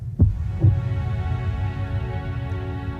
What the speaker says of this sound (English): The heartbeat at the end too.